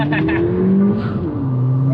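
A Ford Fiesta ST180's engine revs hard in second gear and climbs in pitch as it accelerates, loud and close from inside the cabin, with a voice briefly heard over it.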